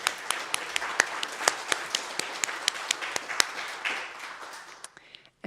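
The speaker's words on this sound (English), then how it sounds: "I would love a round of applause for everybody who's put this together" An audience gives a round of applause, with a steady patter of many hands and sharp individual claps standing out, fading away toward the end.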